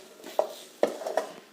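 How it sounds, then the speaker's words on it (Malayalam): A spoon stirs coriander powder into beef masala in a pan, a few sharp scraping knocks against the metal spaced irregularly over a quiet sizzle. "നന്നായിട്ടൊന്ന് മിക്സ് ചെയ്യാം."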